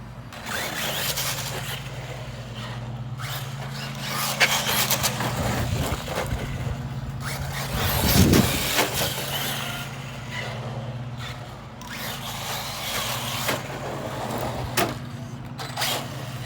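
An Arrma Kraton 4S RC truck with a freshly rebuilt clutch runs steadily, its motor holding a continuous low drone with small fluctuations and a brief louder swell partway through.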